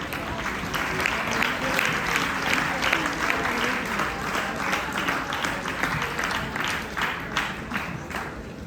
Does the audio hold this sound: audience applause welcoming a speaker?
yes